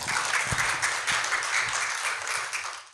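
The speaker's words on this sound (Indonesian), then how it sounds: "beri tepuk tangan yang sangat amat meriah untuk Bapak Muharwan Arifin Nasution, Sarjana Ekonomi" Audience applause welcoming a guest onto an Indonesian talk show in Riau, a fairly loud, dense burst of clapping with a few sharper individual claps that tapers off at the very end.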